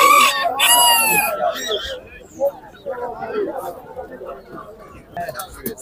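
Roosters crow loudly and close at a chicken market in Sabunchu, followed by steady clucking and murmuring voices of the crowded poultry stalls.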